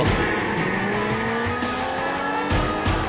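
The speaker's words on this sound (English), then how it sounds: "Start that car up and let's go." Engine and car sounds from the Sega CD racing game Road Avenger, a steady roaring drive with rising engine tones and tire noise running continuously at full loudness with no talk.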